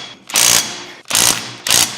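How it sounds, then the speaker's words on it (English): Torque wrench tightening lug nuts on 2-inch Demon wheel spacers of a 2020 Kubota 1100C tractor to 90 foot-pounds: three loud, close bursts of ratcheting mechanical clicking, each lasting about a third of a second, separated by brief pauses. "So we're torquing these to 90 foot-pounds."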